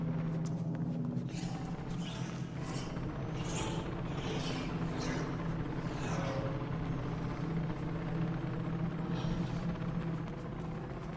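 A helicopter hovers in the video game Mirror's Edge Catalyst, a steady droning rotor hum with a low engine tone holding throughout, fairly faint and unbroken.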